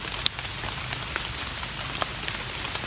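Steady rain falls on the way home from mushroom foraging in rural Thailand, a soft even hiss of drops on surfaces with a few sharper close taps, with no talking.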